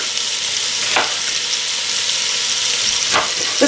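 Chopped vegetables and chicken fry in a pan, giving a steady loud hiss of sizzling with a couple of brief stirring swells, close up and without talk.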